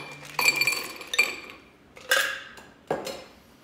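Ice cubes drop into a cocktail glass for a Salty Dog, four separate bright clinks and rattles spaced about a second apart, close and crisp with quiet between them.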